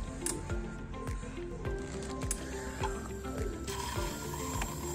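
A small water pump in a hobby coding project, triggered by an IR proximity sensor, runs with a steady low mechanical whir and gurgling squelches of water moving through a tube into a glass, heard up close and continuous.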